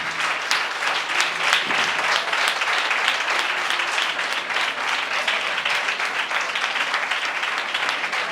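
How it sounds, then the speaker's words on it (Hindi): Church congregation at a Pentecostal prayer centre breaking into loud, sustained applause, dense steady clapping from many hands filling the room throughout with no pauses. "जोरदार ताली बजाएं परमेश्वर के लिए।"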